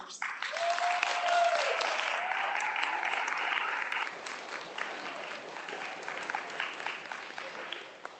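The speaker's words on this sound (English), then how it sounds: "Students, let's give a big round of applause to our teachers." Students and families at a third-grade school awards ceremony applaud their teachers, a loud swell of clapping with cheering that peaks early then gradually thins and fades over eight seconds.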